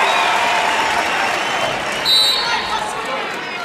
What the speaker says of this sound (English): This crowd trying to push their team.